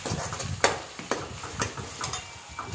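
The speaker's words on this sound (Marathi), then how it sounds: "मसाला चांगला भाजून घ्यायचा" Spice masala with curry leaves roasting in a pan for kat amti, a soft steady sizzle with a spoon scraping and stirring in light irregular strokes, close and alone without talk.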